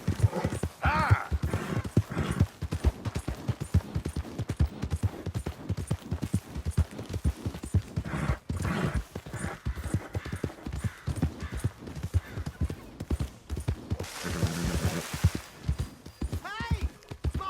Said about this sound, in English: My horse! Am I glad to see you?